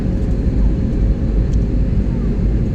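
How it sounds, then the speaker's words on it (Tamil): An airplane coming in to land, heard from inside the cabin as a loud, steady engine roar with no distinct events, continuous for a few seconds. "விமானம் இறங்கிக் கொண்டே இருக்கின்றது."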